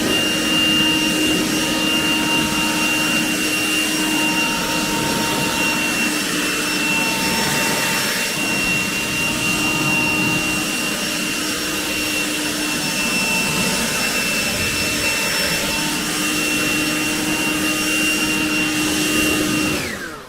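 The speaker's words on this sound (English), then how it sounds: "I'm going to get my leaf blower out and blow the water off of a couple of the cars." A leaf blower blasts water off cars outdoors in one steady, loud, continuous roar with a whining tone, running unbroken for about twenty seconds before cutting off at the end.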